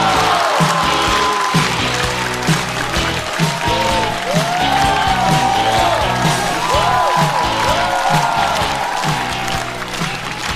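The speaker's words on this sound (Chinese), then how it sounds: "掌声欢迎王颖" Audience applause with scattered cheers and whoops at a stand-up comedy show as a comedian is welcomed onstage. The sound is steady, dense and loud throughout, with no talking over it.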